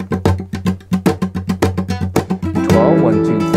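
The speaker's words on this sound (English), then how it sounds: "So what is this gonna sound like if we add our Bulerías rhythm to that?" Rhythmic strummed flamenco guitar playing a bulerías rhythm over a blues progression, a rapid, accented pattern of sharp chord hits, ending in a ringing rolled flourish, close and loud.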